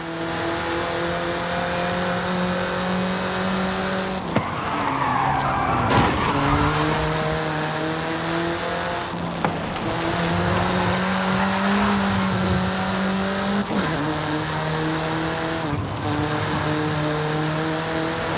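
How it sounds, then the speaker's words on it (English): A race car is driven hard in Forza Horizon 5, with a loud sustained engine drone, shifting revs and repeated tire-squealing skids, continuous and close throughout. "The car was designed for an enhanced track experience, but remains road legal."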